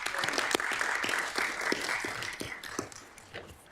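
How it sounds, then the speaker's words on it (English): Applause from attendees at a council meeting, a moderately near burst of clapping that holds steady and then thins out toward the end. "So a round of applause for all their hard work"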